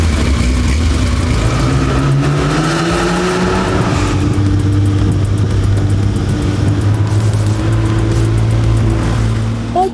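A 1972 Porsche 911 S engine pulls loudly while driving, its note rising and falling through gear changes with a steady throaty drone heard from close up.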